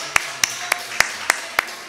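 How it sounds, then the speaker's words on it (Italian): Church congregation at an evangelical Christian worship service clapping in slow, regular unison, seven sharp claps spaced evenly and close by. "vogliamo fare un applauso al Signore invece"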